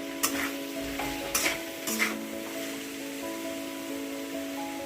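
A spoon scrapes and stirs through tomato and coriander masala in a pan, several distinct strokes near the start, over a soft continuous sizzle from the pan.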